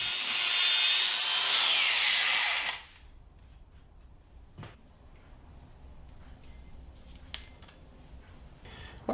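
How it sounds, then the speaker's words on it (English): A flapper disc grinds a beveled edge onto a transmission mount for a 1999-2004 Jeep Grand Cherokee, a loud steady rasping whir for about three seconds before cutting off, leaving faint scattered clicks and a quiet workshop. "what I'm doing is just grinding out the edge there and trying to give it a beveled edge"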